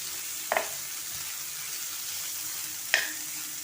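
Kudya bean pods sauté in an oiled pan with a constant soft sizzle. A spoon stirs and scrapes twice, making brief louder strokes.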